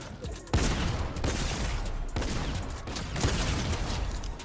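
Continuous rapid gunfire from a video game in the Fortnite-style Bugha's End Game map, loud and sustained bursts of shots running without pause, with voices faintly underneath.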